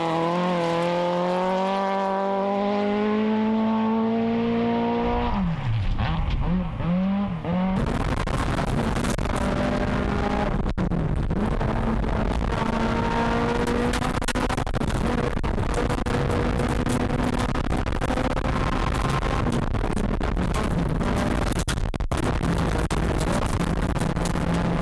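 A David Wright Nissan two-wheel-drive rally car on a rally stage, heard from inside as the engine holds steady loud revs, with gear changes and a rough drop in pitch early on, then continuous hard-driven engine roar.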